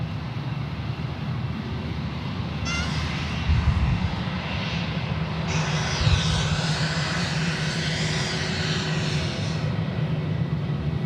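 An airliner departs runway 34 Left at Sydney Airport bound for Brisbane, its engines a loud, steady roar that swells and grows harsher partway through, with no talk over it.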